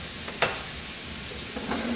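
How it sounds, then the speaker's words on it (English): Pears cooking with sugar and cinnamon in a pan on the stove, a steady soft bubbling sizzle throughout with a couple of light stirring clinks. "We've got our pears on the stove. They're just simmering, soaking up that cinnamon goodness."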